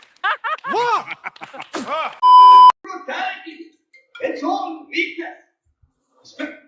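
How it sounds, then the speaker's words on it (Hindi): A bright electronic ringtone chirps briefly amid lively chatter, a voice heard before it and adults talking right after. "फोन आ रहा है तुम्हारा यार, वो तो उठा लो पहले।"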